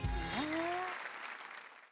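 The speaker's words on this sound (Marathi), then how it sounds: "वा वा वा, जोरदार टाळ्या" Studio audience at the Marathi comedy show Maharashtrachi HasyaJatra breaks into brief applause right after a short musical sting, the clapping dense but fading quickly within two seconds.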